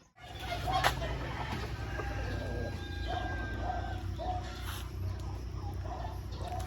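Chickens sold by the kilo cluck and squawk close by during a delivery, over a constant low engine-like rumble, with occasional louder calls.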